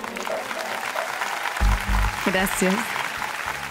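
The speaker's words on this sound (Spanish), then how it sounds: "el aplauso del público lo tenés igual" An audience at a televised singing audition claps steadily in the background while people speak briefly over it.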